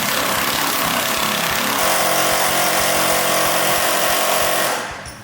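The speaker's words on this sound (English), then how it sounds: "The Sawzall is not making a dent." A Sawzall reciprocating saw grinds against a stuck bolt on a 1965 Ford Mustang, a loud, steady buzzing drone that runs unbroken for about five seconds before cutting off abruptly.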